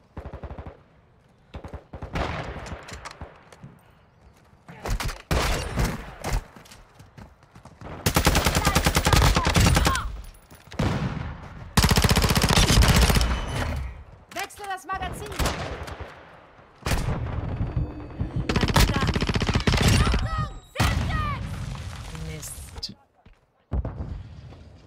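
Gunfire in a Call of Duty multiplayer match, with loud bursts of automatic fire and single shots in repeated volleys, close and heavy, with people talking over and between them.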